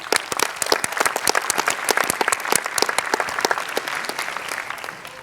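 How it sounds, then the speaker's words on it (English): Sustained audience applause at a Java programming anniversary presentation, many hands clapping densely and fairly loudly throughout, with occasional sharper claps standing out near the front. "Give them a round of applause."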